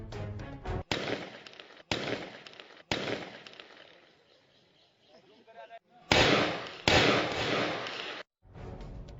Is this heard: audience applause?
no